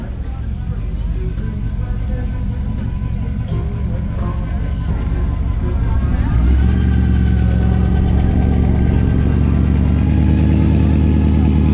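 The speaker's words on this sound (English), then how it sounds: "Definitely hear a supercharger over there." A supercharged car engine idles at an outdoor car show, a steady low rumble that grows louder and fuller partway through, with people talking nearby.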